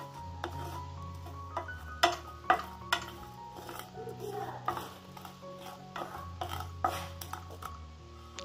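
Coriander, mustard and cumin seeds dry roast in a pan, stirred with a spoon that ticks and scrapes against the metal in quiet, irregular taps and soft rustles, close by.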